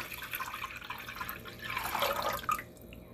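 Clean water poured in a quiet trickle, faint splashing and dripping that swells briefly near the end before thinning out.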